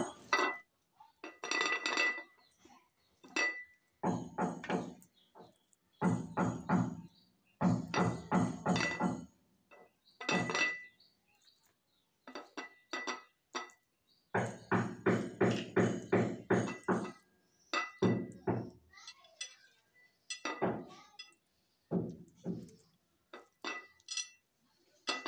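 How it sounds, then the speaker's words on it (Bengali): Construction work on the floor below sends repeated clanking and metallic knocking up in bursts, some rapid and rhythmic, with short pauses between, heard indoors in a home kitchen with no speech. "আমাদের নিচের তলায় কাজ হচ্ছে, এই জন্য একটু শব্দ পাওয়া যাচ্ছে।"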